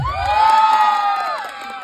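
Crowd of fans cheering and shouting for a guest at a public event in Bulacan, a loud, near burst of voices and whoops that holds steady for about two seconds.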